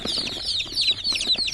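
Local Assam chicks at a hatchery chirp constantly in a dense, high-pitched chorus, many peeps overlapping close by with faint rustling beneath.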